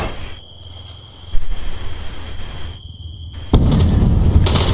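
Airsoft underslung grenade launchers fire outdoors, producing a few sharp pops and bursts amid steady ambient rumble, with a louder sustained stretch of noise toward the end.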